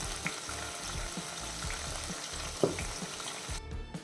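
Ginger garlic paste sizzles steadily in a pan over a low flame as the base for pepper chicken. A utensil taps and scrapes as it is stirred, close and moderately quiet, with no talking.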